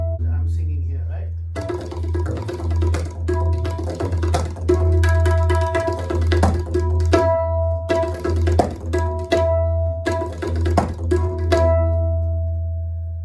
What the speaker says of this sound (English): This is the sound of the tabla.